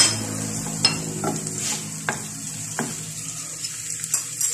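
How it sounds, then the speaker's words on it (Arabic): Chopped onion sautéing in a pan with spices and garlic, a steady close sizzle with a spoon stirring and scraping now and then, several sharp clinks against the pan, no talking. "البصله فهي كنشحرها"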